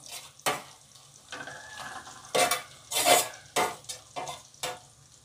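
Very hot mustard oil poured into kachri pickle, crackling and hissing sharply in repeated loud bursts with stirring and clinks of utensils between them, close and without speech.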